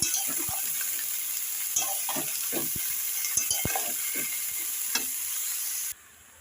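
Dried lote fish fries in a pan, a constant hissing sizzle with sharp clicks and scrapes as a spatula stirs and turns the pieces, close and clear until the sound cuts off near the end.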